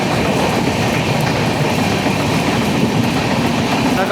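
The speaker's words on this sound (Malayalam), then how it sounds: "ഇത് ഹാപ്പ മഡ്ഗാവ് എക്സ്പ്രസ് ആണ്." Hapa–Madgaon Express train passing near Ukshi station, a steady loud rumble of wheels and carriages with faint clickety-clack running throughout, no voices.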